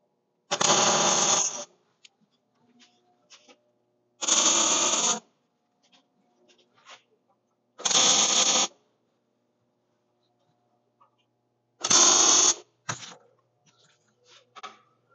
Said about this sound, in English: So I'm going to weld a couple of these pieces on